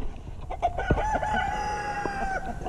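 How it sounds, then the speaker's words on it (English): A rooster crows in a long, drawn-out call, close and loud, with clucks and scattered rustling around it while firewood rounds are split outdoors; nobody speaks. "Oh, did you come at me again, you freaking rooster?"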